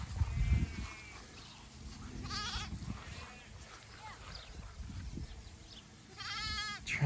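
Sheep and lambs bleat repeatedly at close range on a grass-fed farm, the wavering calls rising over a low rumble of movement and handling noise.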